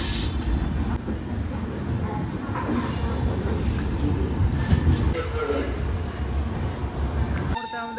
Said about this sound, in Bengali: আমাদের ট্রেন এখন প্রবেশ করছে নিউ জলপাইগুড়ি রেলওয়ে স্টেশন